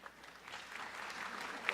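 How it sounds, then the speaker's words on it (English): Soft applause rises from the audience at a George Brown College convocation ceremony, faint and scattered, heard from a distance for a couple of seconds. "Please kindly hold your applause until the end of all the introductions."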